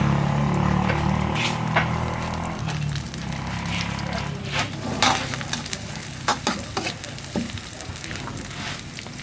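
Chili and garlic, with dried chilies, sizzling and stir-frying in hot oil in an old wok, a steady loud fry with scattered crackles and spatula scrapes throughout.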